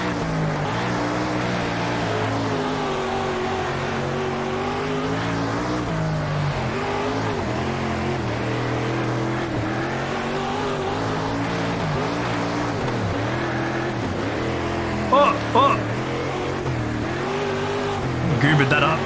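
Dirt racing car engine heard from the cockpit in the World of Outlaws racing game, a steady loud droning roar with rising and falling revs throughout, with a few brief sharper bursts near the end.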